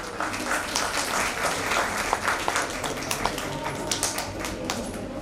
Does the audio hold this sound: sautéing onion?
no